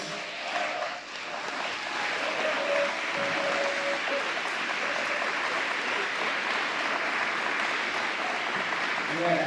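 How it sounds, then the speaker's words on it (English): Sustained audience applause at a youth event, a dense, even roar of many hands clapping that builds slightly and holds for nearly ten seconds, with a few voices faintly mixed in early on. "let's give them a big round of applause"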